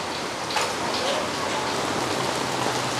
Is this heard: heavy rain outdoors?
yes